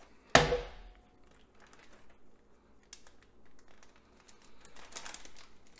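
A plastic bag holding pork chops and red wine marinade is sealed: one sharp close rustle up front, then soft scattered crinkles and a brief louder crackle toward the end.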